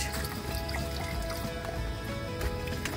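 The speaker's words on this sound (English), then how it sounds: "and pouring in some water." Water poured into a pot on a camp stove inside a van, a faint continuous trickle and splash against a steady background hiss.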